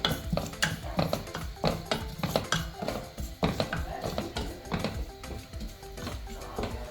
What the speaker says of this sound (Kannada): ಚೆನ್ನಾಗಿ ಫ್ರೈ ಮಾಡಬೇಕು. ಫ್ರೈ ಆಗಬೇಕು ಚೆನ್ನಾಗಿ.